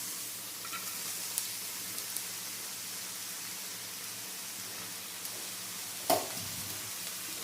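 Spinach leaves stir-fry in a pan for Kerala cheera thoran, a steady close sizzle with faint scraping stirs and one sharper clatter near the end, with no voices.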